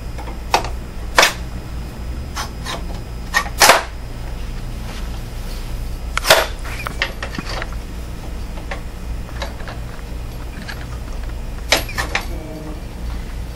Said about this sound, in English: take the feeder head mounting rod and insert it through the yoke and then through the feeder head